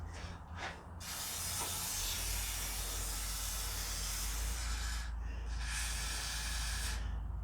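A steady, loud aerosol hiss sprays continuously for several seconds onto the pull start of an old Montgomery Ward snowblower, with a brief break partway through before resuming.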